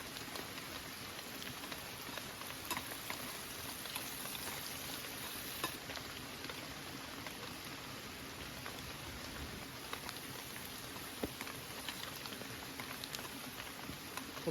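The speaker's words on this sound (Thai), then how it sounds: "เจียวอหอมแดงกับกระเทียมให้มัน มีกลิ่นไหม้ๆหน่อยนะ" Shallots and garlic fry in hot oil, a steady, faint crackling sizzle that runs evenly throughout with scattered sharper pops.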